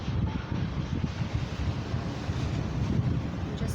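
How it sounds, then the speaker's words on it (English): Ocean waves roll onto the beach at Ocean City, Maryland, a continuous loud rushing surf mixed with heavy wind buffeting the microphone, with no voices. "Just starting to listen to the sounds of the ocean if you can hear them."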